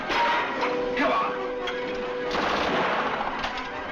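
Rapid gunfire from a 1940s war film crackles in bursts of sharp reports, mixed with shouting voices and a noisy battlefield background.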